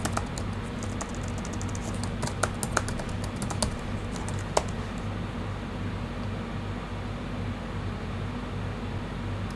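Someone types a password on a computer keyboard, giving a quick, light burst of soft key clicks that fades into a steady hum of fan or air-conditioning noise in a quiet room.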